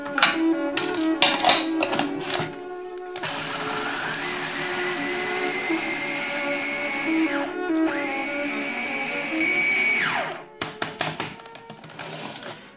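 An electric blender whirs at close range for two stretches of several seconds, working basil pesto ingredients with salt and pepper, while clattering handling sounds come before and after each run.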